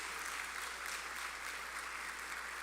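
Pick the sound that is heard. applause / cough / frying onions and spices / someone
applause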